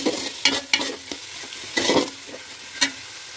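Tomato and garlic paste for mutton curry fries in a pan under a soft sizzle. Several distinct bursts of spatula scraping and stirring rise and fall up close.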